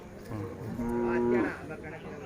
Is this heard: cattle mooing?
yes